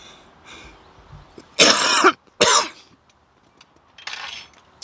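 Two loud, harsh coughs in quick succession, followed by a fainter third cough, with quiet pauses in between.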